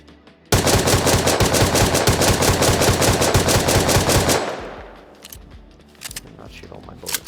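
Sustained rapid automatic gunfire in the console survival game Rust, a loud unbroken burst of shots for about four seconds that cuts off into quieter scattered clicks and rustling.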